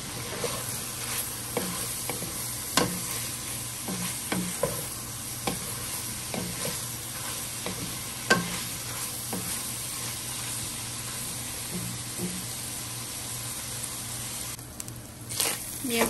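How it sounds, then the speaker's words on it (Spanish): Beef browns in a pan for huaraches with a steady loud sizzle throughout, punctuated by regular scraping stirs of a utensil against the pan every second or so. "Mientras se dora más la carne,"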